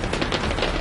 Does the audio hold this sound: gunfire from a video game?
yes